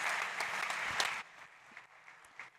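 Audience applause at a fintech and insurtech startup pitch competition, a dense burst of clapping for about a second before quickly thinning to scattered claps.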